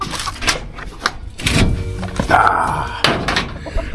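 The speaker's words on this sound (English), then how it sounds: "Been having trouble with this door." Troublesome wooden door at a cabin being remodeled, pushed open and shut with a few heavy thunks and scraping rattles, close and loud.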